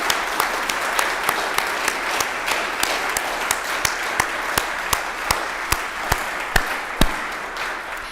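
A Unitarian Universalist congregation applauds together in its sanctuary, a steady wash of many hands with a few sharp individual claps popping out at a regular pace, moderately loud and sustained throughout.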